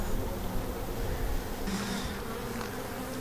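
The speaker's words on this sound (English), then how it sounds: "Bees are a lot more spread out now" Honeybees swarm over the frames of an opened hive during a colony split, their steady, dense buzzing filling the air up close without pause.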